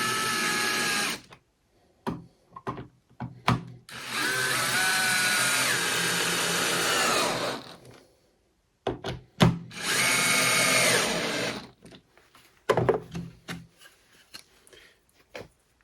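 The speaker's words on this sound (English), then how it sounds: "let's snug while I start the drill bit" Power drill boring holes through a wooden frame jig for Layens beehive frames, heard as several loud sustained whirring bursts separated by short gaps and scattered clicks and knocks, close by.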